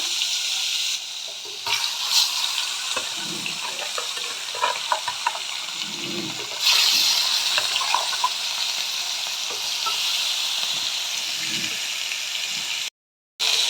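Bhetki fish pieces frying in hot oil, a close, steady sizzle with soft stirring and spatula knocks, the hiss swelling louder midway before cutting off briefly near the end.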